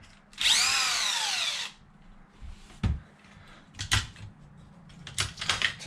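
An impact gun backs screws out of an Arrma Kraton EXB RC car with one loud, high whirring burst of about a second, followed by scattered small clicks and clatters of parts being handled.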